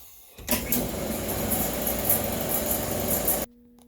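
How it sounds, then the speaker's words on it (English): An air compressor switches on abruptly and runs at a steady, loud mechanical drone for about three seconds, then cuts off, used for inflating a bike tire to seat a stubborn bead with an inner tube. "All right, we gotta turn the compressor on."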